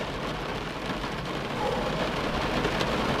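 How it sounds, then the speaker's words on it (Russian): Steady rain hisses and patters continuously during a fishing trip, a dense, even wash of falling water that swells slightly louder partway through. "Дождик был на протяжении всей рыбалки. Я под дождем"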